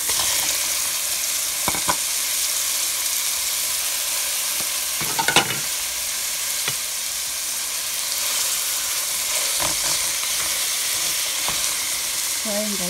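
Ground meat sizzles steadily in a pan as it is sautéed, a continuous hissing fry with occasional spatula scrapes and clicks, close and unbroken, and no talking over it.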